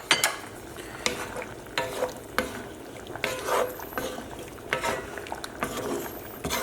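Shrimp and chorizo are stirred in a frying pan, with repeated scrapes and clinks of a utensil over a soft, quiet sizzle. The sound is close and comes in uneven bursts.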